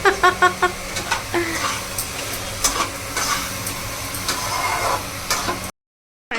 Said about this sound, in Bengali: যে তরকারি হচ্ছে